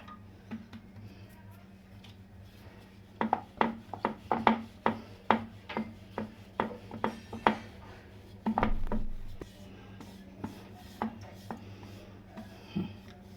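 Methi paratha dough being rolled out with a rolling pin, a run of soft regular rubbing and tapping strokes close by, with a steady low hum underneath.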